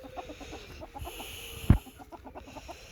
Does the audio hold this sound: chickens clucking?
yes